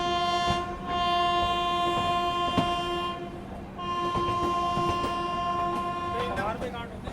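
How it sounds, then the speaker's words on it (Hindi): The 22418 Varanasi Mahamana Express pulls into a crowded Bareilly Junction at night, its loud, sustained horn blaring over the rolling rumble of the train, with a few sharp clanks along the way. "गाड़ी 11:56 यानी 11:56 में पहुँच रही है बरेली जंक्शन।"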